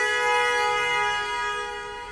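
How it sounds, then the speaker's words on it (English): A single sustained vehicle horn blares in street traffic, loud and steady, then fades slightly toward the end with no voices. "Was that a strategic honk?"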